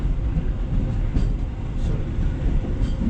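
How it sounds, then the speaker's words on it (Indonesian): A local economy-class train on the Cepu to Surabaya line gives a steady, loud low rumble with faint wheel clatter, heard continuously as if from on board, with no talking. "Persiapan jalur 2 kereta api ekonomi lokal dari Cepu tujuan Surabaya Banyuwangi siap diberangkatkan dari jalur 2."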